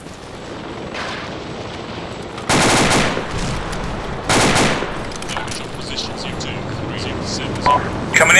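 Rapid automatic gunfire in a combat video game during a base defense with anti-aircraft weapons, two loud sustained bursts over a constant din of battle noise, with further distant shots scattered throughout.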